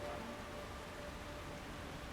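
Steady rain pours down in the Chongqing level of the Hitman video game, a soft, continuous, even hiss with no voices over it.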